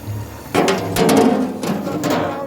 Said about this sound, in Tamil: அப்படியே மறுபடியும் நம்ம மூடியை போடுறோம்